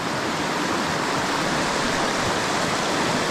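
Rushing water of a trout stream, a loud, steady broadband roar filling the whole clip without pause, close by and with no voice audible over it.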